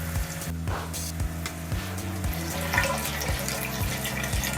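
Hydroponic nutrient solution for a DWC bucket tomato setup pours and splashes steadily while old solution drains out, a close, continuous trickling water sound with faint rhythmic knocks underneath.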